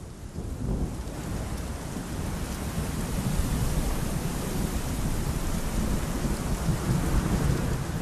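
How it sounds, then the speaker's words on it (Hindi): Steady heavy rain pours down with low rolling thunder rumbling underneath, constant and fairly loud throughout. "आखिरकार बारिश आई।"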